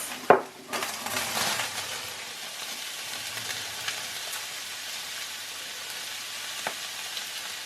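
Onions going into a hot pan for steak and kidney pie, with a sharp clatter as they land, then a steady soft sizzle of frying under light stirring and occasional utensil taps.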